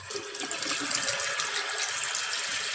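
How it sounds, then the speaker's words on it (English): Cold water tap running into a hotel bathroom sink, with a steady close splashing rush at good pressure for about three seconds and no talking. "The sink itself, the taps, the cold water tap."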